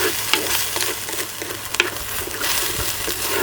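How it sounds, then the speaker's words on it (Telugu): A green chilli masala with a little water is stirred in a pan for a village-style green chilli chicken pulao, giving a steady scraping and gentle sizzling with spoon strokes repeating every half second or so, close and alone. "ఇది పచ్చివాసన పోయే వరకు ఒక్క 3-4 నిమిషాలు బాగా కలుపుకుంటూనే ఉండాలి."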